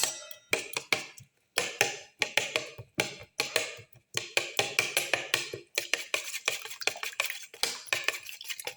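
A utensil beats egg and tomato omelette batter in a bowl, producing a quick rhythmic series of clinking taps against the bowl that run in bursts with brief pauses, close and clear with no talking.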